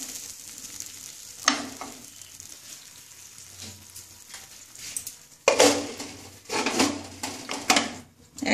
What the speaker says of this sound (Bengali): এটা দিয়ে জল দিচ্ছি তো একটুখানি ঢেকে দেবো